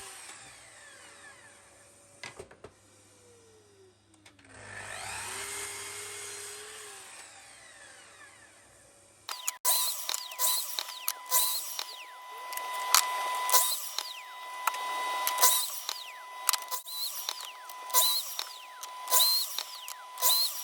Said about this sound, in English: head over to the miter saw and use that to remove the tongue and the groove off of either end